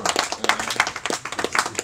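Brief burst of clapping from a crowd at a sports club's general assembly, a cluster of hands applauding together in an irregular, moderately loud patter.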